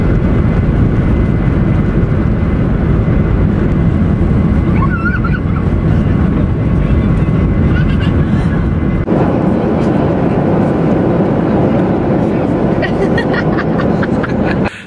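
Loud, steady cabin roar of a passenger plane in flight to Rhodes, a dense, continuous engine and airflow rumble that fills the whole stretch, with a faint brief tone partway through.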